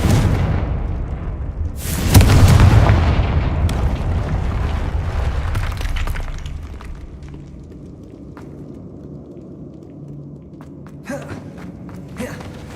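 A Confringo fire spell explodes in the Hogwarts Legacy video game, a single loud booming blast followed by a fading rumble and scattered debris clatter.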